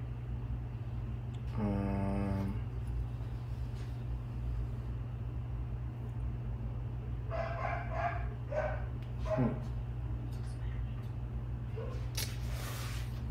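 Dogs bark indoors over a steady low hum: a quick close burst of barks early on, then another run of barks later, spaced out with quiet gaps and no talking.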